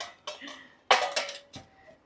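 Several sharp metallic clanks and knocks of a heavy iron frying pan lid being handled, irregular and close, with brief ringing between hits.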